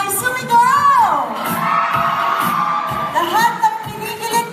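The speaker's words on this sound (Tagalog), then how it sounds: "Okay, lahat ulit ng masaya para kay Maymay. Sumigaw!" At a birthday celebration, a large crowd shouts, squeals and cheers loudly and continuously, with high excited voices rising and falling together for several seconds.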